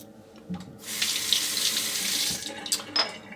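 Water runs steadily from a bathroom tap for a couple of seconds while a safety razor is rinsed under it, close and moderately loud, with a few clinks and splashes as the flow changes.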